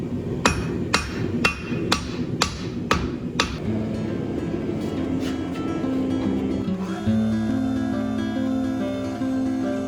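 A giant bronze sword being hammered on an anvil at a forge: a run of about eight sharp, evenly spaced ringing hammer blows up close, followed by a few scattered lighter strikes and a lower metallic rumble and clatter.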